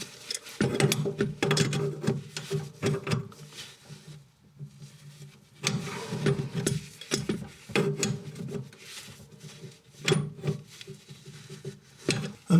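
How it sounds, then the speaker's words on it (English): A spanner works a compression nut onto a copper olive on a tap flexi tail adapter inside a vanity unit, giving repeated close metallic rasping and ratcheting bursts in uneven spells with brief pauses. "I'm now going to tighten that compression nut."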